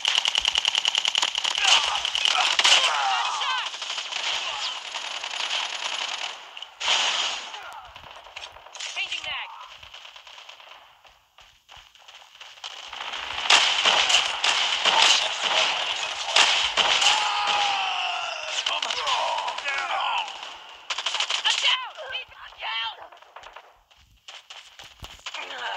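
Rapid automatic gunfire in the mobile shooter Call of Duty Mobile, on the Shipment 1944 map: dense, loud bursts that go on almost without pause, with brief dips and game voice callouts mixed in.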